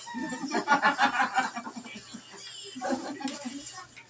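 A voice imitates a clucking chicken with rhythmic, throaty bursts, followed by a shorter second round of clucks.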